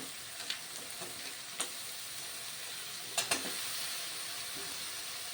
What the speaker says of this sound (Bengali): সমস্ত কাঁকড়াগুলো দিয়ে দিলাম